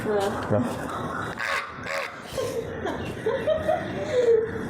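A person imitates a crow's caw with a few short nasal calls, mixed with laughter and casual talk nearby.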